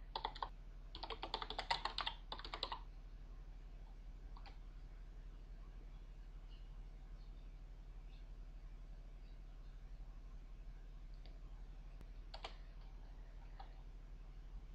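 Quick bursts of keystrokes on a computer keyboard while typing game commands in a text-based online game, a dense flurry at the start and a lone clatter later, over a low steady hum.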